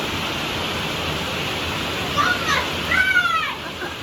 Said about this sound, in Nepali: कति पानी परेको तर्केरै पर्यो